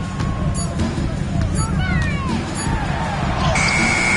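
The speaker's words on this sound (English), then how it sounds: "Shot clock violation as the buzzer sounds." Shot clock buzzer in the NBA 2K25 basketball video game, a sustained electronic tone near the end over arena crowd noise, sneaker squeaks and game commentary.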